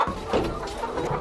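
A hen on an organic farm gives several short, close clucks in an uneven rhythm, fairly loud against a light farmyard background.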